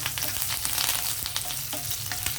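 Garlic frying in a pan with green chilli and curry leaves for a coriander stem chutney, making a steady close sizzle with light crackles and scattered spatter pops, no voices.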